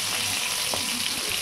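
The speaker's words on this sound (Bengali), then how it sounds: "তেলের মধ্যে মাঝখান দিয়ে দুফালি করে কাটা পটলগুলোকে ভালোভাবে ভেজে নিতে হবে" Halved pointed gourd (potol) frying in hot oil gives a steady, even sizzle close by, with a faint stir or clink partway through and no voices.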